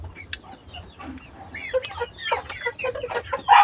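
Forty-five-day-old chickens let out of their cage cluck and chatter close by, irregular bursts of calls growing busier and louder toward the end, with no talk.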